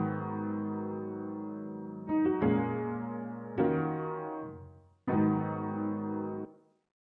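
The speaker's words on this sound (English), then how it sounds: "And I put it down 8 semitones." A bounced music loop pitched down eight semitones, with reverb, EQ and tape effects, plays deep, dark sustained chords that restart in a few distinct phrases before fading out, with no talking.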